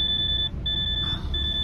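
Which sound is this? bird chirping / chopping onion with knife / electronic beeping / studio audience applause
electronic beeping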